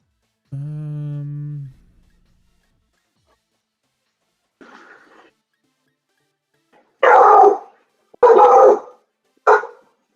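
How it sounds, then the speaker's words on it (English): A dog barks in short loud bursts up close: a drawn-out tonal whine or howl first, a faint yip, then three quick deep barks, with silence between them. "Your dog really does bark like a 40-year-old dog."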